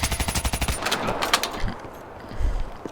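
Rapid automatic gunfire from a Kuda submachine gun with a fast mag in a video game, a close burst of evenly spaced shots followed by scattered impacts and a few more shots, loud and with no talking.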